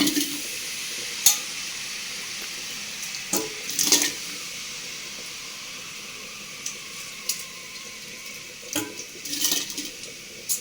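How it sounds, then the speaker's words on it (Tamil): A spoon scrapes and stirs broken rice into a pot of boiling water in short bursts over a soft steady hiss of simmering, with occasional metallic clinks. "தண்ணி கொதிக்குதுங்க. இப்போ நொய் போடுறேன். கூழுக்கு நொய் போடுறேன்."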